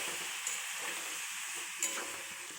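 A soybean, pointed gourd and potato curry fries in a pan with a soft, even sizzling hiss, fairly quiet, with a couple of faint clicks.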